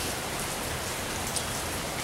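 Steady rain falls on a rainy afternoon, a dense, even hiss of drops that fills the scene continuously at moderate loudness, with no voices.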